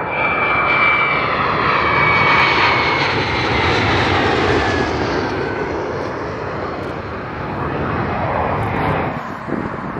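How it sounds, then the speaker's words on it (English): F-35 Lightning II fighter jets come in to land at RAF Lakenheath, a loud, sustained jet engine roar with a rising and falling whine as the aircraft pass at close to moderate distance. "two F-35s just on the brake. Looks like they're going to land this time."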